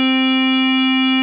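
A chiptune-style FM synth tone with a detuning phasing effect, played as one steady, loud, buzzy sustained note with rich harmonics, held alone for just over a second.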